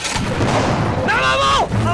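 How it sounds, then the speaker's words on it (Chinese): Cannon artillery fires in an anti-Japanese war film, a heavy blast near the start with a loud shouted voice over the rumbling aftermath. "把炮给我架上，朝他们给我轰。"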